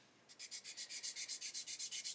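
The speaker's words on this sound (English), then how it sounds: "doing lots of sanding around those strakes at the end is going to be quite awkward" Rhythmic sandpaper rubbing on a model aircraft, about fourteen quick back-and-forth strokes in a steady scratchy beat, close and fairly quiet, no talking.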